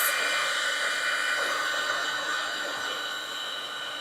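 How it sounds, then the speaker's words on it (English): An embossing heat tool blows a loud, continuous hissing whoosh of hot air close by while melting layered paste, holding steady and then easing off slightly toward the end. "And then I will hit this with my heat tool."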